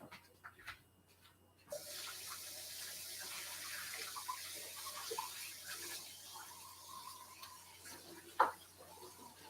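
Running tap water splashing over something being rinsed in a kitchen sink, a soft hiss starting after a quiet moment and continuing steadily, with a sharp clink near the end.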